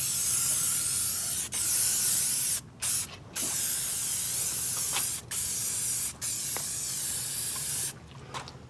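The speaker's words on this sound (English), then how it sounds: "So from here, I spray down everything pretty much," Sustained hissing spray of cleaner over a motorbike's pipe and guard, close and continuous, broken by a handful of brief pauses and quick stop-start bursts, with no voices.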